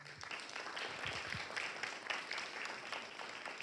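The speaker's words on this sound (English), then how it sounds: "Please give them an applause." An audience at a university graduation celebration applauds steadily, a dense continuous patter of many hands heard from a distance and held at an even level throughout.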